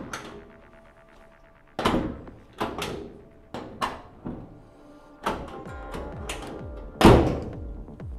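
A passenger door fitted with an Altman latch on a 1952 Chevy 3100 truck is shut repeatedly, giving about seven sharp metallic thunks and latch clacks at irregular intervals, close and loud, with no talking.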